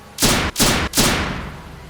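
Three rapid, loud gunshots crack in quick succession as a sound effect in a Fortnite scary story, each blast trailing into a fading echo.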